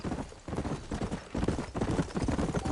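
Horse hooves clip-clop steadily on a town street in Red Dead Redemption, a close, busy run of overlapping hoofbeats with faint ambient sound underneath.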